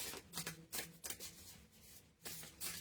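Tarot cards being shuffled during a collective reading, a run of soft papery riffles and flutters in quick bursts with brief pauses between them, quiet and close.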